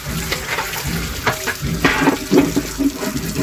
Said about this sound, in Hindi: अभी भी एक दो दफ़ा और पानी इसको मार धो लेते हैं पानी के साथ